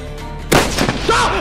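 A single sharp sniper shot in a Garry's Mod sandbox battle rings out loudly after a brief quiet moment, followed by a short echoing tail, with a voice speaking over it.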